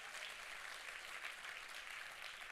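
Church congregation applause, a distant, even patter of many hands clapping at low volume throughout, with no voices standing out.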